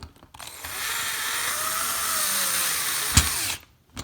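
A power driver drives a number 6 screw into a mount, a steady close whirring motor lasting about three seconds with a sharp click as it seats, then stops.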